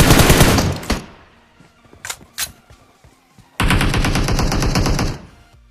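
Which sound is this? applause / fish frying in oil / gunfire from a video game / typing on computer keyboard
gunfire from a video game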